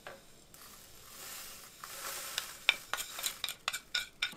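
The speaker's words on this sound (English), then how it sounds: "we're going to toast our seeds from our chile mulato" Chile mulato seeds toasting in a pan for mole poblano, a soft hiss that builds into crackling sizzles and sharp pops, growing busier and louder toward the end.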